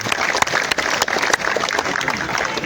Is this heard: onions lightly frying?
no